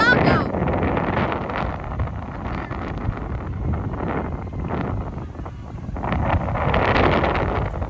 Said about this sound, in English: it's over here, windy like a mother trucker.